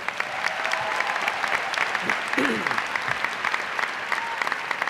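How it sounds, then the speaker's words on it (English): Sustained applause from a commencement crowd in the stands fills the space, a broad, continuous roar of clapping with a few brief voices and shouts rising faintly from within it. "let's give them another round of applause"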